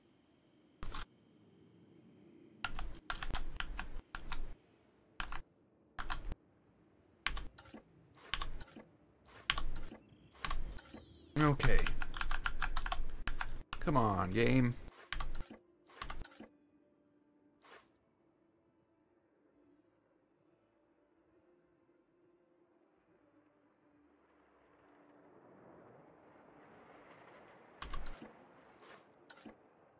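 Bursts of fast typing and clacking keys on a Corsair RGB 95 mechanical keyboard, loud and close, arriving in irregular clusters for about fifteen seconds before trailing off to quiet, with a few brief spoken words mixed in.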